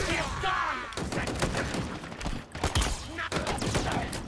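Plasma machine gun fire in Halo Infinite, rapid repeated bursts of shots in quick succession, loud and close, with brief gaps between volleys amid chaotic battle noise.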